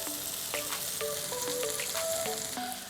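Stuffed mushrooms frying in a pan, a steady close sizzle and crackle of hot oil running the whole time, with bright tonal clinks from the pan rising above it at intervals.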